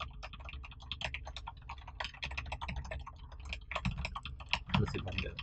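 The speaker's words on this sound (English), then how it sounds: "I'm just going to use the keyboard to fight this guy" Rapid, dense clattering of computer keyboard keys, pressed in quick bursts to play a game in a PSP emulator on a Mac, close and fairly soft, continuing nonstop for several seconds.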